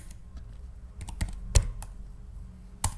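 Sparse keystrokes on a computer keyboard while code is typed, a few scattered clicks with louder taps near the middle and end over a quiet background.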